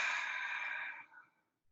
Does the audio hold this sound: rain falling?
no